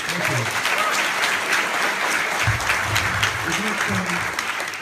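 A crowd applauds steadily and loudly throughout, with voices calling out and talking over the clapping.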